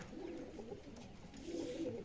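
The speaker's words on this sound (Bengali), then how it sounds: "এই দেখুন এই দুটো লাল পায়রা" A pair of red Madrasi show pigeons coos in soft, low, repeated murmurs, faint and close, with quiet background noise and no speech.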